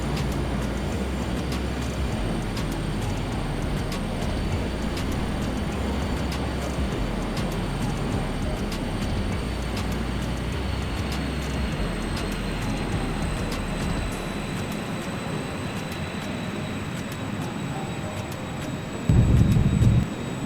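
A Learjet 35A lands in Microsoft Flight Simulator 2020: a steady, loud jet engine roar runs throughout, then a heavy thud of a hard touchdown comes near the end.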